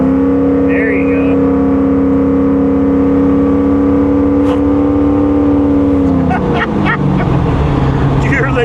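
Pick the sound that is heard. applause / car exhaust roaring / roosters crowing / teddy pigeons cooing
car exhaust roaring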